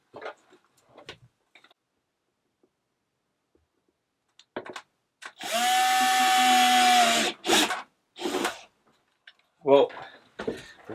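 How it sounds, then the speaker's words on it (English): Power drill boring a hole through a VW T5 van's interior door card, one sustained whining burst of about two seconds with a steady pitch, preceded and followed by short bursts of nearby speech. "Well, we've drilled the hole now"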